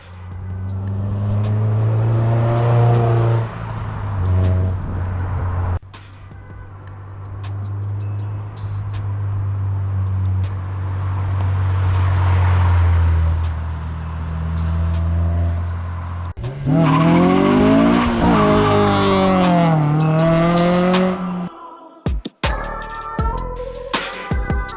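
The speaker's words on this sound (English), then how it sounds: "he just laid down a nice fat burnout here in Mexico" A Honda S2000 with a supercharger lays down a long, loud burnout in Mexico, its engine roaring and revving while the tires squeal and skid steadily, ending in a few sharp revs near the close.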